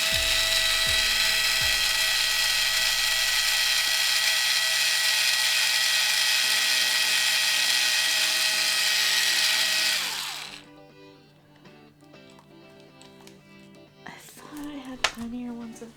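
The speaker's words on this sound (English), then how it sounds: "maybe I just need to drill a bit more." A power drill bores into plastic, a part from a diamond painting pen, with a loud steady whine for about ten seconds, then stops, leaving quieter clicks and handling noises.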